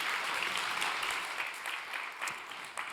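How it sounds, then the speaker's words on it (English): Steady applause from an audience at a startup founders' pitch competition, a dense, even wash of clapping that holds for the whole stretch with no voices on top. "Another round of applause for Overlay."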